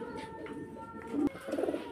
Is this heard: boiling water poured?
no